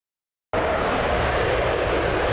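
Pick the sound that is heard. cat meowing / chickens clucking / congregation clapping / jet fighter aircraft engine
jet fighter aircraft engine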